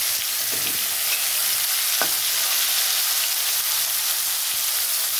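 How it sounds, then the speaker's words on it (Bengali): Bitter gourd rubbed with salt and turmeric fries in hot oil in a wok, giving a loud, dense, unbroken sizzle close up with a few faint clicks and no voices. "এখন আমি উচ্ছেটা ভেজে নেব।"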